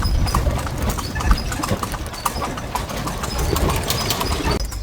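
Hooves of a horse-drawn carriage clip-clopping in Tunisia, a steady brisk rhythm of sharp hoof strikes over a constant rumble of wheels and street noise, close and continuous.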